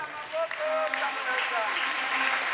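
Audience applause and cheering for a child crowned best dancer at a church seminar, a dense, steady wash of clapping with voices mixed in throughout.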